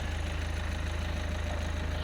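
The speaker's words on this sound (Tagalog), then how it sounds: "So pinaiinit lang natin yung makina" A car engine idles while warming up before dawn, giving a steady, low, evenly pulsing throb close by. No voices are heard over it.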